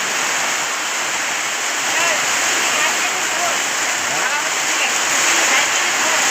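Heavy rain pours down in a village during a storm, a dense, steady roar of falling water with constant splashing hiss and no pauses.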